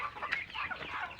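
A hen clucking nearby in a short burst of soft, quick clucks, fairly close and alone with no talk.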